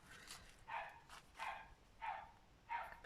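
Neighbouring dogs yapping faintly in the distance, four or five separate barks spaced about half a second apart, with no talk over them.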